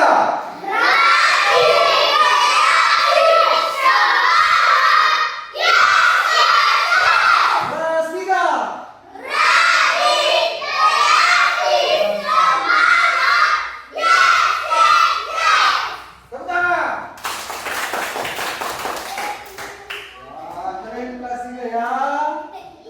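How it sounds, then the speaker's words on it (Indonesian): Third-grade pupils in an elementary school classroom chant in unison and clap rhythmically in a class spirit clap, loud repeated bursts of shouted group chanting separated by short pauses, ending with a quick flurry of clapping and more voices. "saya mau minta dulu tepuk tangan, tepuk semangat dulu ya"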